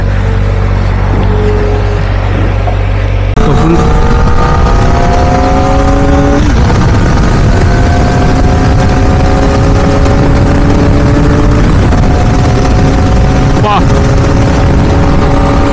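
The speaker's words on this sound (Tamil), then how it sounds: "That's the pull, that's the exhaust, that's the inline 4." A Kawasaki ZX-4RR inline-four revs hard while riding, its high-pitched exhaust wailing and climbing through the gears with rising tones and brief dips between shifts, loud and close under rushing wind.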